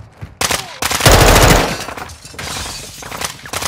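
Dense automatic gunfire from a Call of Duty Modern Warfare match, loud and close, with rapid bursts surging through the middle and continuing more sparsely toward the end.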